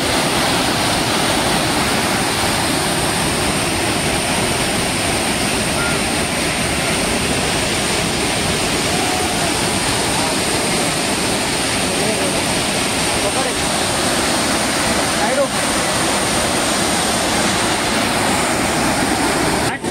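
Water from the Savatkada waterfall in Rajapur pours down in a loud, unbroken roar that fills the scene, close and constant, with speech faint beneath the rush.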